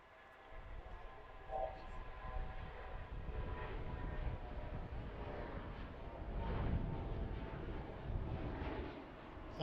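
An airliner landing at Washington Reagan National Airport, heard as a broad, low jet rumble that holds steady and swells around the middle of the clip, fairly distant, with faint voices in the background.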